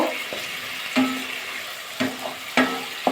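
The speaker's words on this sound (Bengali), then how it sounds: "যত সময় তেল না থাকছে তত সময় কিন্তু মশলাটা কষিয়ে নেব" Spice paste (masala) being sautéed in oil in a pan for a mixed vegetable curry, a low steady sizzle broken by four or five sharp scraping stirs of a spatula, close and fairly loud with no talking.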